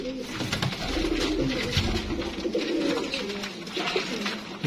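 Several pigeons cooing close by, soft repeated throaty calls overlapping in a steady rhythm over light background noise.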